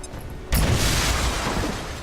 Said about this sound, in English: Well, the explosion didn't kill him.